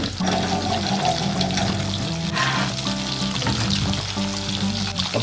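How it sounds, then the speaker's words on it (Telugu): Prawns deep-fry in hot oil over a medium flame for restaurant-style crispy honey garlic prawns, giving a loud, steady, close bubbling sizzle throughout with a faint tonal hum beneath it. "దీన్ని కొద్దిగా మంచిగా గోల్డెన్ బ్రౌన్ కలర్ వచ్చినంత వరకు నీట్ గా ఫ్రై చేసుకోవాలి"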